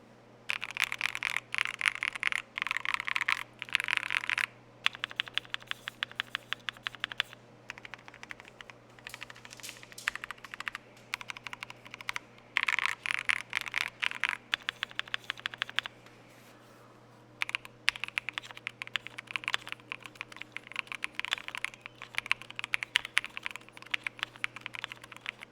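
Rapid bursts of typing on an Akko Mod 007S V2 mechanical keyboard, close and crisp, with dense clacky keystrokes in runs separated by short pauses, no voices.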